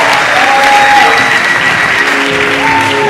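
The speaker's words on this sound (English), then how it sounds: "Round of applause for the team" Dense, loud applause from an audience at a school award, part of the Kenya National Research Festival, holds steady from start to finish with faint voices underneath.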